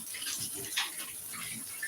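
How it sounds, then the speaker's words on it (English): Tap water runs into a kitchen sink while hands are washed under it, a soft, steady splashing with faint shifting bursts, quiet and free of talk. "Let me just wash my hands."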